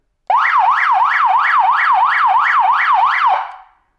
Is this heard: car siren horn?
yes